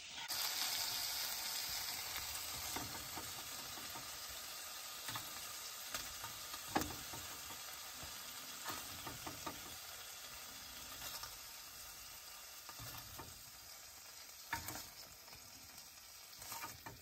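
Razor clams sizzle in butter in a pan, making a steady, faint frying crackle that continues throughout with occasional soft clicks of movement and no talking.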